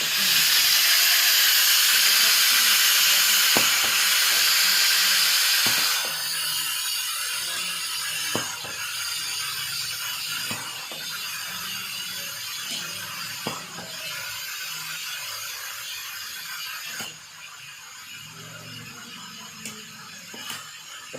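Compressed air driving a double acting cylinder on a pneumatic trainer: a loud steady hiss that drops partway through, followed by intermittent clicks and short bursts of air.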